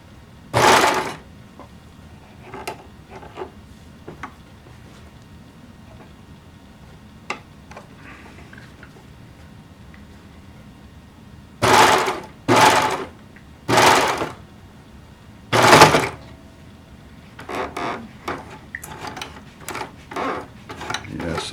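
Sewing machine with its presser foot dropping back down after being raised: a few sharp mechanical clunks and clicks in a quiet room, with a tight cluster of louder knocks near the middle and lighter ticking at the end.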